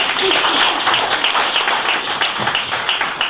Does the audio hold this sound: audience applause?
yes